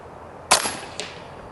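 A single sharp crack from a BRK Ghost .30 airgun shot outdoors, close and abrupt, with a faint second snap from the impact shortly after.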